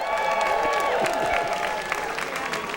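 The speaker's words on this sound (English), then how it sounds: "Big round of applause." A baseball crowd at a Pacifics home opener applauds on the field, giving a round of applause. Steady distant clapping and crowd noise continue throughout, with a public-address voice and tones over the top.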